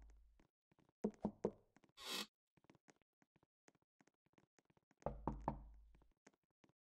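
Knocking on a door in the Roblox game, a few firm close raps in quick succession, then scattered quieter taps and a short burst of noise, with another cluster of knocks later amid near silence.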